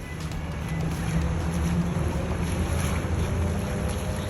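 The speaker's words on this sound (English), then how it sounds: "That's the sound of Olufumi Johnson walking through a flooded parking lot in Riverdale on Monday" Steady sloshing and churning of water as a person wades through a flooded parking lot in Riverdale, a continuous close wash of turbulent water with wind noise over the microphone and no talking.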